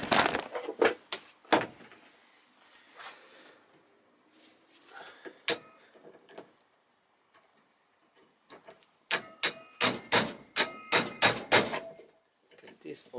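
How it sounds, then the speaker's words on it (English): Hammering on a stuck car part during an idle speed repair, irregular sharp metallic strikes in bursts with pauses, ending in a fast run of repeated blows, with some talk in between. "It is also stuck, and I need to hammer this more."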